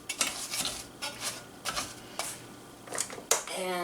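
A pan of homemade naan bread sizzles as a utensil scrapes and flips it, with repeated clinks and soft scraping against the pan amid a steady frying hiss.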